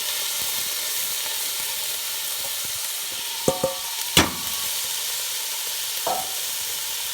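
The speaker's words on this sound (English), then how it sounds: "give it a little bit of a mix." Rice is stirred into fried onions in a pot, giving a quiet steady sizzle and hiss with a few sharp scrapes and knocks of the spoon against the pot.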